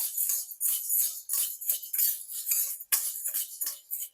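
Urad dal is dry-roasted and stirred in a pan, making quick, rhythmic, scraping and rattling strokes close by, each stroke a bright, gritty swish with brief pauses between.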